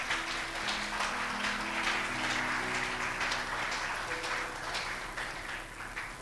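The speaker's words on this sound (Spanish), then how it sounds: "Dale fuerte tu aplauso al Señor si estás contento." A church congregation claps during a live Sunday service, giving a steady wash of applause with sustained musical tones underneath, moderately loud and even throughout.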